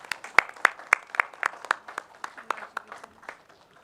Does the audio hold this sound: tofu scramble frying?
no